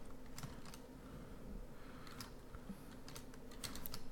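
Quiet, close keyboard tapping: a scattered run of light key clicks on a computer keyboard, irregular in rhythm, over a faint room hum.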